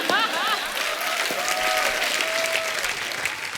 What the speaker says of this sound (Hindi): 500 लोग तालियां बजा रहे हो